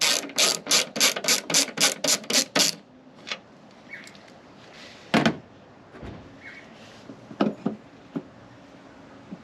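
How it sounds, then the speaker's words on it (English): A ratchet with a 10mm socket clicks in a quick burst of about nine even strokes while fastening a fender mount bracket on a Ford Ranger. A few scattered, fainter clicks and knocks follow in the quiet. "10mm socket."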